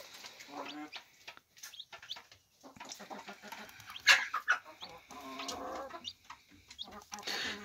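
Broody Gurk hen clucking close by near her chicks, with repeated short clucks and a brief sharper call in the middle, over quiet background rustling and no talk.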